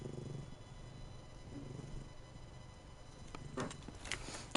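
A cat purring up close in a low, steady, rhythmic rumble, with faint shuffling and a few louder rustles near the end.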